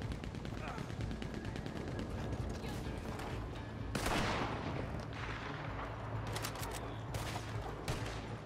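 Maxim machine guns firing in the World War-era video game Call to Arms: a dense, sustained rattle of automatic fire mixed with scattered louder shots and mechanical clatter, continuous and fairly distant throughout.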